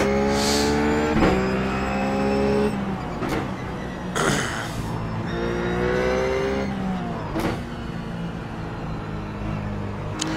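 Ruf GT3 race car engine at Zandvoort in iRacing, with tonal engine notes dropping sharply under repeated heavy braking and downshifts, then climbing again as it accelerates between corners, loud and continuous throughout.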